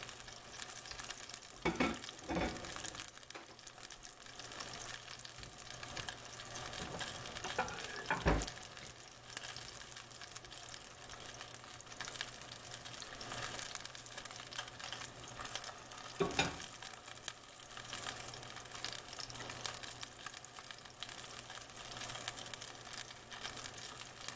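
A tuna steak sears in a hot pan, producing a faint, continuous sizzle and crackle with a few sharper pops and scrapes scattered throughout.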